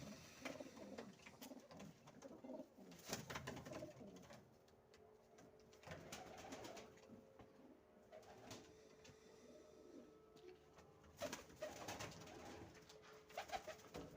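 Wide-tailed fighting pigeons coo repeatedly in a loft, with soft overlapping calls close by and occasional rustles and thumps of birds moving.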